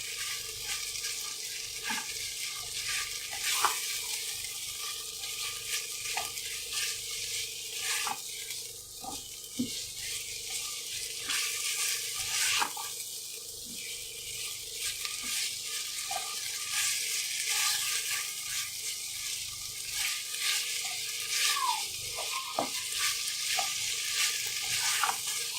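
Chicken frying in a pan over medium heat, a continuous bright sizzle with occasional soft clinks and stirring scrapes, close and steady throughout with no voices.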